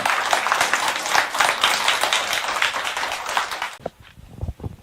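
A large audience claps in a dense, loud burst of applause at a spiritual gathering. The clapping cuts off abruptly near the end, leaving a few low thumps.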